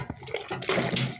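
Chunks of taro dropped into a pot of boiling soup while cooking an Egyptian taro dish, giving a brief close splash and sizzle followed by a steady bubbling, watery rush with no talking.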